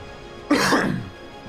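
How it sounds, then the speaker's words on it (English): A single sharp cough from one person, close and loud, bursting out of a quiet room and fading within half a second. "Oh god, I'm coughing."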